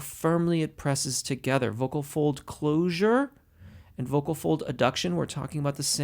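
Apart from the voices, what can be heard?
No everyday noise stands out behind the speech.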